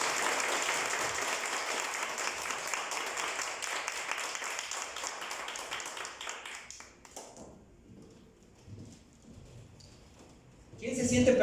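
A church congregation claps for the Lord, the applause full and steady for about seven seconds before fading out, followed by a quiet stretch and a brief loud burst at the end.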